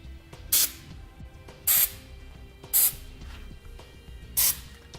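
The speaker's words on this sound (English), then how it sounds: "So we just spray a little bit on there" Four short hissing bursts of grease spray onto the corners of a truck-bed hitch kit on a 2018 Chevrolet Silverado, evenly spaced about a second apart, loud and close with a faint mechanical hum beneath.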